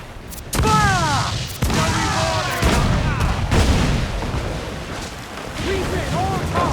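Ship cannons fire repeatedly in the pirate video game Assassin's Creed IV Black Flag. Several loud, heavy booms land close together, with descending whistles of flying shot between them over continuous battle noise.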